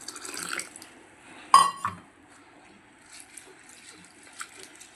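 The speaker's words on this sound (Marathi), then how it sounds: "सर्वत आधी अपन मटकी छानपैकी धुवन घूया" Moth beans (matki) being rinsed in water for Kolhapuri misal, with soft trickling and sloshing, a brief louder splash or clatter midway, then quieter intermittent dribbles.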